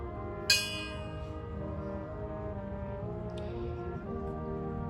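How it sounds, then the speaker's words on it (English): A single memorial bell struck once at a 9/11 remembrance ceremony, ringing loud and clear, then a long sustained hum that fades slowly over a steady low background. "We toll the bell in remembrance of the service members who have lost their lives."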